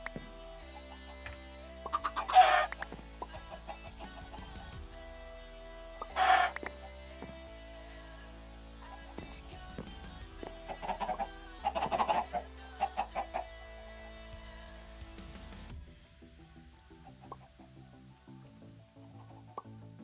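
Chickens in the Minecraft Modern Skyblock 3 modpack cluck in a few short bursts over steady game music, fairly faint and spaced several seconds apart, before the music thins out.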